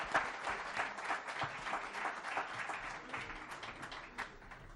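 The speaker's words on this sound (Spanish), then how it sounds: "Un fuerte aplauso para él." Sustained applause from an audience at a book presentation, steady dense clapping that holds at a moderate level throughout without voices.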